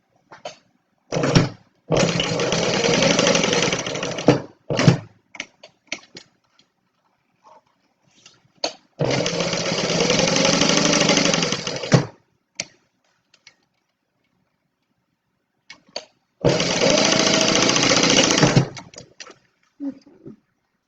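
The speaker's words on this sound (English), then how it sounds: "So I'm just going to top stitch around that bottom part." A sewing machine topstitches around the bottom of a small wallet in three separate runs of steady close mechanical whirring, each a few seconds long, with quiet handling clicks and pauses between them.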